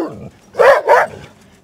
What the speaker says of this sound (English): Gets all the other dogs barking.